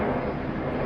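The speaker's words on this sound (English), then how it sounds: "There's planes going overhead, by the way." Planes pass overhead in Spain, a loud broad rushing roar that fills the short moment without a break.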